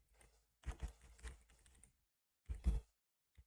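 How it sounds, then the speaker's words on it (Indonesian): Fingers type a SQL query on a computer keyboard in two quick bursts of close, soft key clicks with a short pause between them, in a quiet room with no talk. "ketik select nama pasien"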